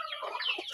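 Pet chickens clucking on a Philippine farmyard, a brief soft murmur of overlapping clucks, faint and somewhat distant with no voices.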